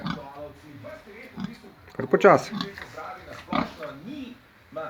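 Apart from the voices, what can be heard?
pig grunting while eating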